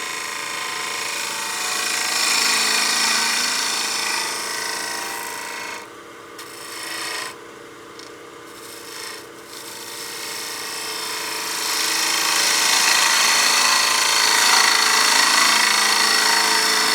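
A skew chisel undercuts a turned wooden witch block head on a lathe, giving a loud, continuous raspy shaving hiss that drops away briefly in the middle as the cut pauses, then returns stronger.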